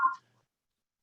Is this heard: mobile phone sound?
yes